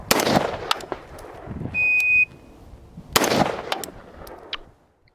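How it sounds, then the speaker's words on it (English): Two loud, sharp rifle shots about three seconds apart at a 25-yard target, one fired through a T1 red dot and one through a 1x4 scope, each with a brief echo tail; a short electronic beep sounds between them. "what you just saw was headshots at 25 yards"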